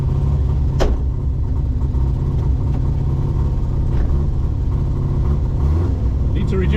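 Car engine idling at a high idle in winter, a steady low rumble that fills the whole stretch with a few faint clicks and knocks on top.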